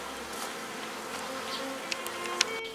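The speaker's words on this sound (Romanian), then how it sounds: "Asta e un stup Mării din care am scos maca" Honeybees buzz steadily at a beehive, a close, continuous hum with a few faint clicks near the end and no speech.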